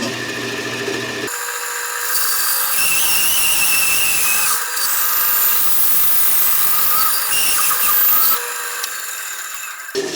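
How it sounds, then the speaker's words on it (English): Bandsaw cutting finger notches into a wooden letter tray: a steady high whine with rough rasping bursts as the blade bites the wood, easing off briefly between cuts, loud and close, no voices. "I'll go to the bandsaw and cut out these finger spaces for grabbing papers."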